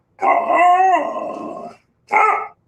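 A dog in a radio advertisement gives a long, loud drawn-out bark that trails into a growling howl, then a short pause and one more sharp bark, heard alone without talk.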